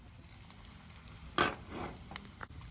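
Turkey burger patties cook in butter in a pan, giving a quiet, steady sizzle broken by a few brief louder spatters and crackles, with no one speaking.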